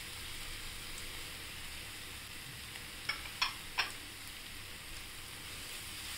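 Spice paste of green chilli, garlic and ginger with turmeric sautéing in oil gives a soft, steady sizzle, broken by three quick stirring clicks near the middle, with no voices.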